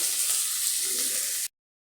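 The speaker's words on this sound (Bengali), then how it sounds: "আমি একটু ভাজা ভাজা করে নিই সেদ্ধ হলে তারপরে লবণটা দেব" Pieces of sweet pumpkin fry in oil in a pan, giving a steady, soft sizzle for about a second and a half before cutting off abruptly into silence.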